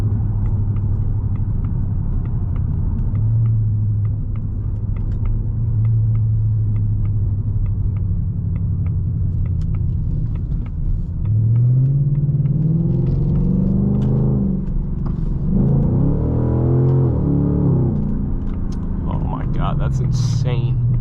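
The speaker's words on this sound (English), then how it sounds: "I cannot believe how good this car sounds." A 2024 Ford Mustang GT Premium engine rumbles steadily at low pitch while driving, swelling louder and rising in pitch toward the end as it revs harder.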